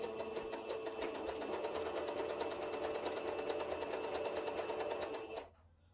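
A sewing machine stitches an elastic (lastex) seam in a fast, even run of close, steady stitching, then stops abruptly near the end.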